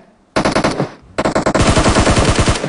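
Automatic gunfire in a PUBG match on the Erangel map during a clan tournament: a short burst, a pause, then a longer sustained stream of rapid, loud shots close up.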